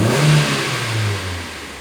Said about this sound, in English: I'll see if I can maybe rev it a bit more in here.